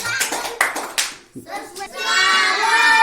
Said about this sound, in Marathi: छान टाळ्या वाजवा रे